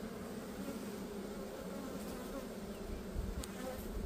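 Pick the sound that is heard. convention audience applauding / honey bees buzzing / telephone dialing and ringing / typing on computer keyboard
honey bees buzzing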